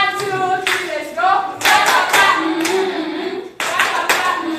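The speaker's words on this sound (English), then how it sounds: "teachers, stand up and clap for our students" Teachers clap for their students in a classroom setting, bursts of hand clapping mixed with children's and adults' voices, fairly close and loud, with a brief pause before a final burst.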